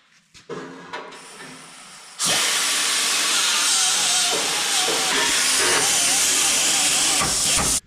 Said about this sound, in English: Now we gotta clean off the core support so we can weld our bar across.